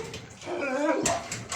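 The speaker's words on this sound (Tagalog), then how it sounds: "Nakakatakot na yung aso." A big dog barks and whines close by, giving a strained whimpering cry followed by sharp loud barks in quick succession.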